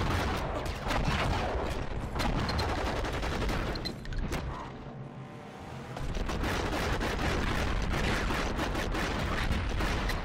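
Dense bursts of gunfire and explosions from the video game Enter the Matrix fill the scene with loud, rapid volleys. A brief lull comes midway, then the heavy barrage resumes.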